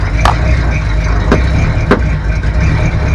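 A 1964 Ford F350 dump truck's engine runs steadily in a low, continuous idle-like rumble while being put into reverse, with a few sharp clicks or clunks cutting through the drone.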